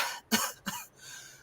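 A person fakes two short, sharp coughs in quick succession, close and fairly loud, mimicking someone calling in sick.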